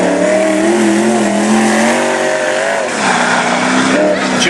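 Race car from Portland, the number 69 Gambler chassis, making a pass during national qualifying at a Cottage Grove racetrack: a loud, steady engine drone with shifting pitch as it goes by, an announcer talking over it throughout.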